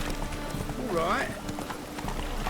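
Hoofbeats of Roach, the horse in The Witcher 3, clip-clopping steadily with a brief whinny partway through, while a voice talks over the game sound.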